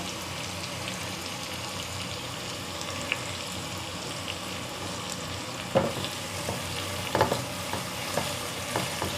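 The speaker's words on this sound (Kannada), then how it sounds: "ಸ್ವಲ್ಪ ಈರುಳ್ಳಿ ಫ್ರೈ ಆಗಬೇಕು" Onion frying in a pan for cabbage palya, a steady close sizzle throughout, with occasional soft knocks and scrapes from stirring in the later seconds.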